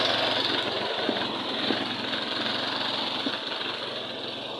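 An engine-driven pump pressurizes a farm irrigation hose for watering eggplants, giving a steady, loud, close mechanical drone with a faint rhythmic knock, unbroken for several seconds and free of speech.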